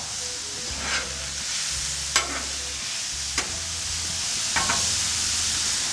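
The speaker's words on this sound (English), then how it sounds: "Now I'm just giving it a tad of vegetable oil." A little vegetable oil sizzles on a hot Blackstone griddle in a steady, hissing sizzle, broken by a few sharp clicks and scrapes of a utensil.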